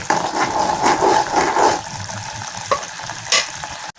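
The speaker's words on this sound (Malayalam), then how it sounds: "ഇങ്ങനെ പൊട്ടി പൊട്ടി തവിക്കുന്നുണ്ട്" Grated coconut being cooked down for virgin coconut oil crackles and bubbles in a pot while being stirred, a busy frothy sizzle that eases after a couple of seconds, leaving scattered pops.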